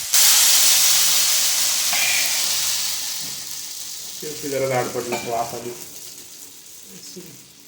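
Thin ghavan batter hits a hot pan with a loud sizzling hiss that gradually fades, while a voice talks over the later part.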